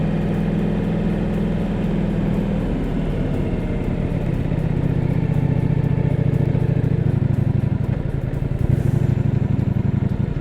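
Ducati Multistrada V4 motorcycle engine and exhaust running steadily, a loud, continuous low rumble that builds slightly partway through, with no voices.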